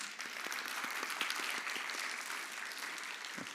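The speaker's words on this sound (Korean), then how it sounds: "우리 감사의 박수 한번" A church congregation at a Sunday service applauds in thanks after a 25-string gayageum performance, a dense, steady wash of many hands clapping together for several seconds at a moderate distance.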